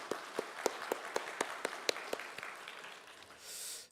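Church congregation at a Sunday afternoon worship service clapping in praise, a soft, fairly distant scatter of individual claps in a loose rhythm that thins out toward the end.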